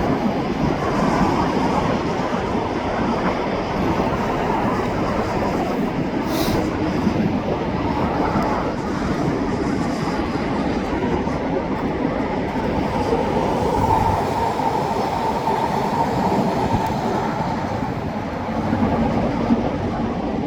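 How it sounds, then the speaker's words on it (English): An eastbound shop freight train with a couple of gondola cars rolls past along the BC Parkway, a steady rumbling roar of wheels and cars throughout, with a brief high screech partway through and no talk. "it looks like the shop train eastbound is on its way"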